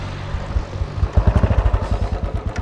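A motorcycle engine catches after a kick start and settles into a steady, throbbing idle with a rapid low pulse, close by and fairly loud after a second of quieter rumble.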